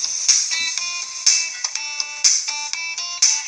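Tinny, thin music plays from the small speaker of an HP iPAQ 1940 PDA, with bright plucked notes in a quick repeating pattern and no bass, no voices.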